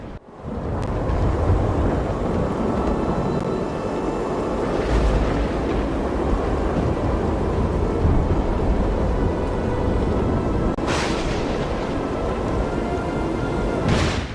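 Heavy rain and wind roar steadily as a storm rages over the sea, broken by two sharp, distant-sounding thunderclaps that flare up and fade, all without any voices.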